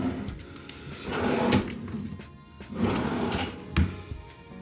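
White dresser drawers in a Bay Lake Tower deluxe studio room are slid open and shut several times, giving close wooden rumbles and sliding scrapes with a firm knock as one closes.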